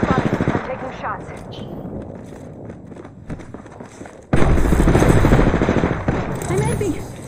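Rapid automatic gunfire in Apex Legends rattles in dense bursts throughout, growing louder and closer in the second half, mixed with game effects and a voice at times.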